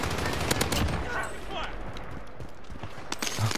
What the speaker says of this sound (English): He's shooting him in the legs.